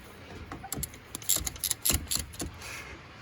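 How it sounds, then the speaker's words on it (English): Ratchet clicks and metal contact come from tightening a 12 mm bolt on the fuel line of a Ford 7.3 diesel, a close series of irregular mechanical clacks with no talking. "go ahead and tighten that bolt down, 12 millimeter"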